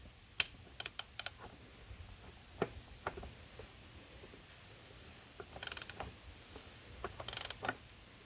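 Socket ratchet clicking while tightening the aluminum oil filter housing on an Audi 3.0T engine: a few scattered sharp clicks, then two short fast bursts of ratcheting, close and fairly quiet.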